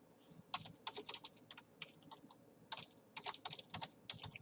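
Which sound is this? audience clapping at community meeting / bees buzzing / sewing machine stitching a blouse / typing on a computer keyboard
typing on a computer keyboard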